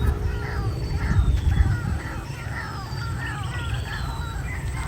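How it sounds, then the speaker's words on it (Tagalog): Birds call noisily near a fish pond, giving repeated harsh, crow-like caws over a rumbling, noisy outdoor background. "Habang inaayos nga namin yung net ay nag-ingay yung mga ibon."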